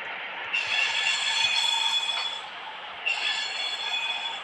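A freight train rolling past on rails, a steady metallic rumble with high wheel squeal that swells, eases briefly and then rises again.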